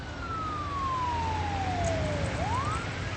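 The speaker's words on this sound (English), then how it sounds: "We got an ambulance coming, man." Ambulance siren from the SimCity video game, a single long falling wail that dips and swings back upward, loud and steady over a low droning city background.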